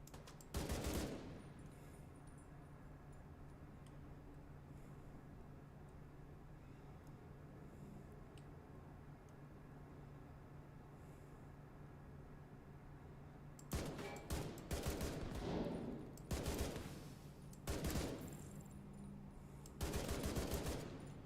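Bursts of automatic gunfire from a video game weapon crackle in several short volleys, separated by long stretches of low background hum.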